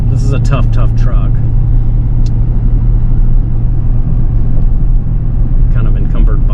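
A 2023 Ford F-350 Tremor pickup with the high-output 6.7 PowerStroke diesel drives in traffic, giving a steady, close, loud engine and road rumble, with a voice over it at the start and end.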